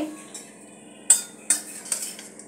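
Carrot frying with spices in hot oil for bread rolls: a few sharp scraping clinks of a spatula against the pan over a faint, thin sizzle, heard close.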